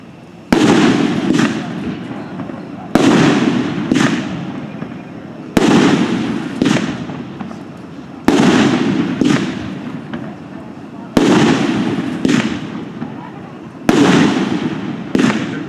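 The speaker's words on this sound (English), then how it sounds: "the next one in the Firearm series we'll shoot tonight is the shotgun" Red Rhino Firearm series Shotgun firework cake fired at a 2018 NFA demo: six loud, booming shots at steady intervals of about three seconds, each followed by a crackling, fading tail.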